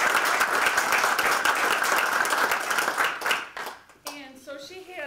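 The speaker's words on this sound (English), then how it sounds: "So let's do a round of applause for Pam and her joyous year." A round of applause fills a room at a Rotary club roast, dense clapping sustained for about four seconds before tapering off as a voice begins to speak.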